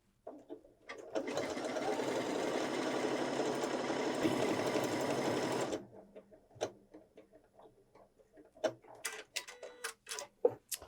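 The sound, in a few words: Janome 6700P sewing machine stitching lettering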